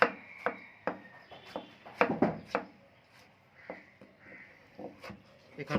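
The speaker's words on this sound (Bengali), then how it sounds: "এবারে টমেটোটা চপ করে নেব।" A knife chops tomato in a string of irregular, sharp taps against a board, some sparse and some in quick clusters, close and moderately loud with quiet gaps between strikes.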